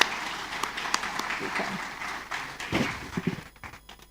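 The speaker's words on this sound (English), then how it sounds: "Please, can we give her a round of applause?" Audience applause at the PEBEC inaugural town hall meeting, a moderate round of clapping that fades out toward the end, with voices mixed in.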